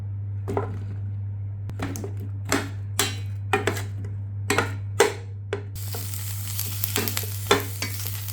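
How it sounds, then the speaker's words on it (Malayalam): Vegetables including eggplant are stirred and sautéed in a pan for an Omani fish curry: a spoon makes repeated scraping, clattering strokes over a steady low hum, and a bright sizzle swells in partway through. "നന്നായി ഒന്ന് ഇളക്കി കൊടുക്കാം ഇത് അല്പം ഒന്ന് വഴണ്ടി വരട്ടെ"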